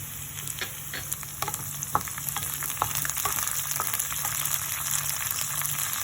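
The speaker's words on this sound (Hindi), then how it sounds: "अब मैं यहाँ हरी मटर थोड़ी सी डाल रही हूँ।" Fresh green peas fry in a pan for samosa filling, a steady bright sizzle with occasional soft clicks and light stirring scrapes, close and continuous, with no talking.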